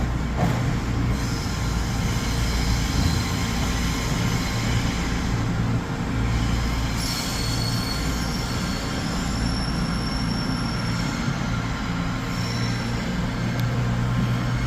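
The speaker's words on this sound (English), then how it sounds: "departing there is going to be the 2104 cross-country service to Southampton Central" A CrossCountry passenger train pulls out of Birmingham New Street station bound for Southampton Central, its steady low rumble and rolling wheel noise filling the platform, with faint squeals and high tones above the continuous drone.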